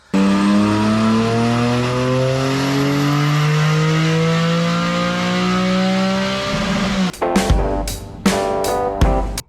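A Honda S2000 engine screams at high speed, a loud, sustained rev with harmonics climbing steadily for several seconds before abrupt, choppy cuts and bursts as the throttle lifts and reopens.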